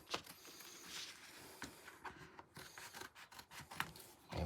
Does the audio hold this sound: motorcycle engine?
no